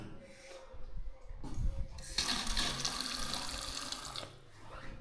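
A shower gushes forcefully at strong water pressure in a steady spray for a couple of seconds, preceded by softer splashing and faint breathing, then cuts off.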